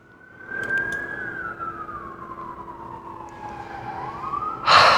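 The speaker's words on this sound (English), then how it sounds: "I'll get to it after this siren is done." A siren wails past outside, one long gliding tone that sweeps down then rises again, fairly close and loud, ending in a burst of broadband noise.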